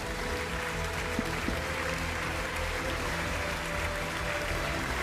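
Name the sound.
studio audience applause welcoming judges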